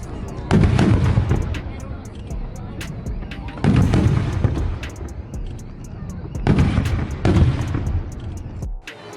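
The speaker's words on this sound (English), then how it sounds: "The sound of a firework boom doesn't come from the explosion in the sky." Canister fireworks go off in three loud, booming bursts, each a deep blast followed by a crackling, rumbling tail that fades before the next; a voice is heard around them.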